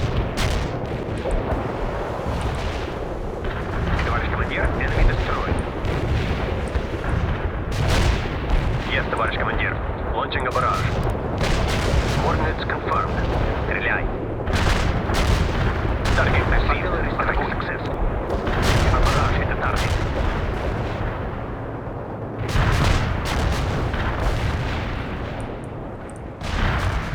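Artillery fire support in the World in Conflict strategy game, with repeated booming impacts and gunfire rolling through a dense battle soundscape, heard under radio-style talk.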